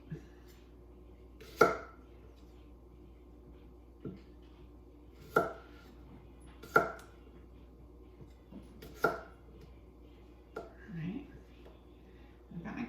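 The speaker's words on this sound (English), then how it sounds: "I've got my potatoes. Chop those." Potatoes are chopped on a board with a knife in about eight separate sharp, close thuds at uneven intervals, against a quiet background with faint low murmuring.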